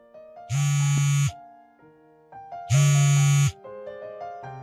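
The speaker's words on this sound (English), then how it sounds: "Wait, are you not answering the phone again?" A telephone rings unanswered, two loud electronic ring bursts about two seconds apart, each lasting under a second, with quieter tonal background between them.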